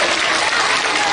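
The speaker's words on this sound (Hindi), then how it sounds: "तो सब लोग तालियां लगाएंगे बच्चों के लिए" A crowd at an outdoor slum community rally in Delhi bursts into brief, loud applause for children, a dense wash of clapping close by.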